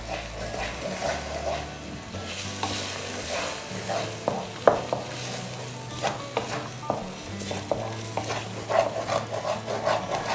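Egg bhurji is stirred in a frying pan, a steady sizzle under repeated scraping and clinking of the spatula against the pan, close and moderately loud, with no talk.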